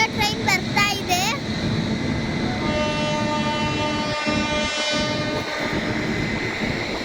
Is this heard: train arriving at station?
yes